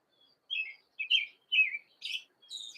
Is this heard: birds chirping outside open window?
yes